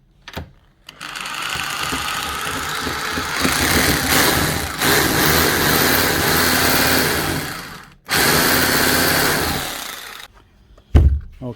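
Makita HR2630 SDS+ rotary hammer drill with a gearbox fault, running in bursts with a buzzing, rattling vibration instead of hammer blows, loud and close, with brief stops between runs.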